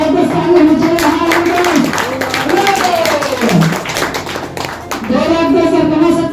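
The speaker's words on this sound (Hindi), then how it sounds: "एक बार जबरदस्त ताली होनी चाहिए।" An audience at a business plan presentation claps in a dense, steady patter throughout, with voices and chatter mixed over the applause.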